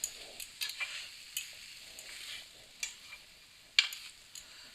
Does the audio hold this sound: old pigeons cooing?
no